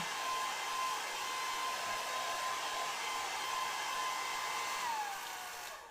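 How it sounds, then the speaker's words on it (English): A hair dryer runs steadily with a continuous high-pitched whine and airy roar, tapering off slightly near the end. "He's demonstrating that bloody hairdryer again."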